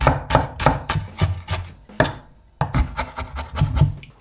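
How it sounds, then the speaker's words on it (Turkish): A knife chops onion steadily on a cutting board, with quick, evenly spaced strokes and a brief pause midway. "küçük küçük doğrayacağız."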